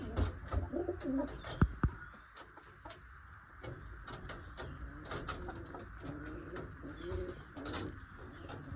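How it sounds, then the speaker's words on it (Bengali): Malwai pigeons, including a female carrying an egg, coo close by in low repeated calls, with scattered clucks and shuffling from other birds and no talking. "নতুন জায়গায় পায়রা একটু ঘাবড়ে আছে"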